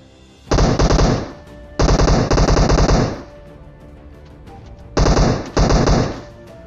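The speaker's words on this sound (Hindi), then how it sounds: "वो बंदा पूरी ट्राई कर रहा है मेरे को मारने की रैंडम शॉट्स में" Close, loud bursts of rapid automatic gunfire in a battle royale video game, three long volleys of about a second each separated by short pauses, with no talk over them.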